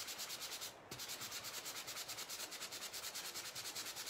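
A small sander works over a chalk-painted wooden tile sign, giving a continuous buzzing, pulsing rasp, loud and close, with a brief dip near the start and no talk.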